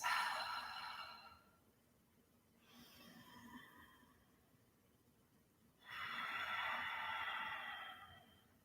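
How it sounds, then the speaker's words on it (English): Slow, deep breaths during a gentle yin yoga session, with a long exhale, a softer breath in the middle and another full exhale, all quiet and close in a still room. "just breathe a few deep breaths"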